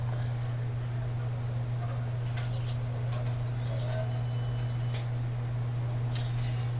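Liquid drains from a jar of home-canned smoked pork in soft, intermittent trickles and drips over a steady low electrical hum, fairly close and quiet.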